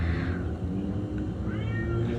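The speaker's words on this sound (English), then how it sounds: "sorry about my roommate's cat." A cat meows indoors, a drawn-out, wavering cry up close over a steady room hum, with no speech.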